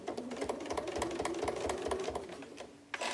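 A sewing machine runs steadily and close at hand, with a rapid, even stitching clatter that stops near the end.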